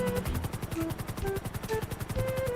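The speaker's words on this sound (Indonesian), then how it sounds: "Saya ditembaki oleh beberapa gangster berwarna kuning itu" Automatic gunfire in the video game GTA V rattles out as a rapid, evenly spaced stream of loud shots that run without a break, with faint tonal game sounds underneath.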